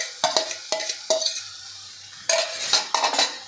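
Mashed eggplant mixture stirred in a pan for bhareet, heard as a few sharp spatula knocks and scrapes against the metal with a faint sizzle between, close and fairly loud.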